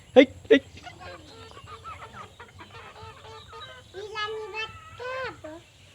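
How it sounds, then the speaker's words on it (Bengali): Native village chickens cluck and call close by while pecking at paddy grain, with a loud burst of clucks at the start and softer clucking and murmured calls continuing throughout. "এই দেখেন আমার মুরগি সব ধান খেয়ে ফেলতেছে"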